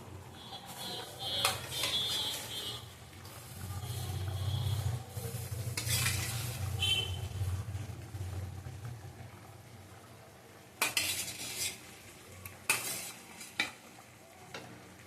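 Hilsa fish goes into a pan and gets stirred, with a close, continuous frying sizzle, scraping spoon strokes and a few sharper utensil clatters toward the end, no voices over it.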